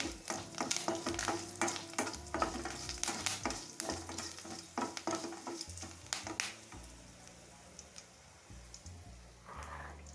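Curry leaves and okra frying in a little oil in a pan make a busy crackling sizzle, with frequent close stirring scrapes. The frying settles into a quieter, softer sizzle toward the end.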